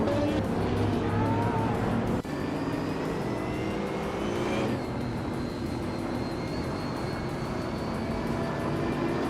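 Race cars in a video game roar past continuously, with engine whines sliding up and down in pitch, a sharp transient near the start, then sustained loud motor drone throughout.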